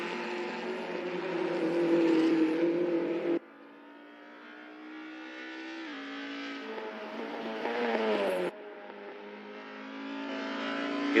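Race car engines roar in the Assetto Corsa racing game, sounding as sustained high-revving whines that shift pitch through gear changes, loud and continuous with sudden cuts between cars.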